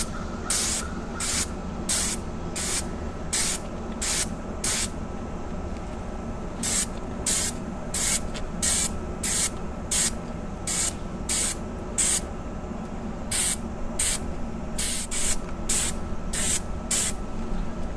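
Repeated short, loud hissing bursts from a spray gun applying Raptor bed liner onto a Snap-on tool cart top, sprayed from a couple of feet away at high force, about two dozen evenly spaced blasts over a steady background hum.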